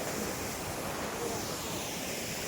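Rushing water at Paritala waterfall near Vijayawada, a steady broadband roar that holds evenly loud and unbroken throughout, with a wind-like hiss and no clear voices.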